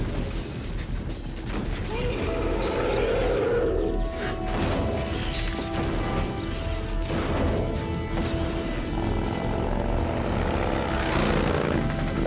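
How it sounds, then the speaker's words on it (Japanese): Helicopter in the video game Metal Gear Solid 3: Snake Eater, a continuous loud rotor thump and engine drone that fills the scene alongside other in-game mechanical noise. "このヘリは何なの。"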